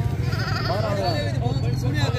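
A goat bleats in a wavering, drawn-out cry at a busy livestock market, heard under steady crowd chatter and nearby voices.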